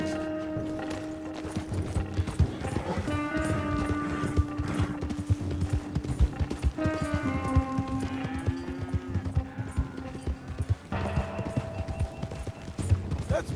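Horse hooves clip-clop steadily through Red Dead Redemption 2 gameplay, a continuous rhythmic trot with an occasional whinny over busy game ambience and music.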